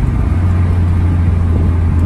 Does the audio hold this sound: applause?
no